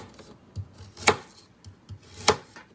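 Two crisp knife strokes cut through vegetables into thin slices on a board during stir-fry prep, spaced about a second apart, each a sharp, close tap with quieter board noise between.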